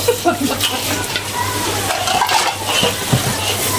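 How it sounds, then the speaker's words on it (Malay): Sacrificial beef sautéing in a pot until crispy, with a steady sizzle and frying crackle under scraping and stirring of a utensil against the pot, and a voice talking over it. "Ni kita tumis dia sampai dia garing sikit dia punya tu"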